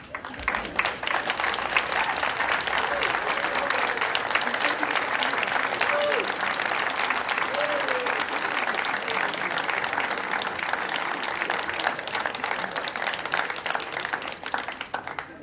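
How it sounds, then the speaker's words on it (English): Audience at a college graduation conferring ceremony applauding the graduates' families, a long, steady, dense round of clapping from a large crowd filling a hall, loud and even throughout. "give those families a well-deserved round of applause"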